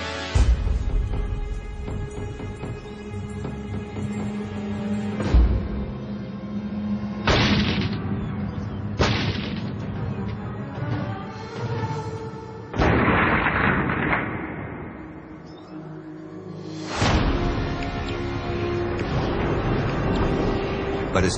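Explosive charges blast a melon apart in several sharp, loud booms, each followed by a decaying rumble, spaced across a long stretch with quieter gaps between.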